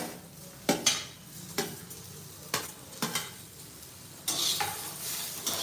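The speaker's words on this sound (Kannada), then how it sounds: "ಮೆಣಸಿನ್ಕಾಯಿ ಫ್ರೈ ಆಗಿದೆ ಅದಕ್ಕೆ ಇವಾಗ ನಾನು ಕಟ್ ಮಾಡಿರೋ ಈರುಳ್ಳಿನ ಸೇರಿಸ್ಕೊಳ್ತೀನಿ" Chopped onions added to green chillies in a frying pan on a gas stove, with scattered stirring clinks and scrapes over a soft sizzle, then a louder burst of frying toward the end.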